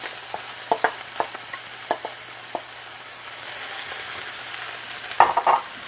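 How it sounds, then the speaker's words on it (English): Chopped onion sizzling as it hits a hot pan, a steady crackling hiss with scattered sharp pops and a louder burst of spattering near the end, with no talking. "So I'm going to add in my onion first. Oh, listen to that sizzle."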